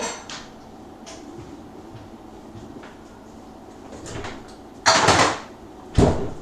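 Kitchen drawer and cupboard rummaging while fetching a hidden knife during Raspberry Bakewell cake baking: soft knocks and scrapes, then two sharp, close clatters near the end, with no talking.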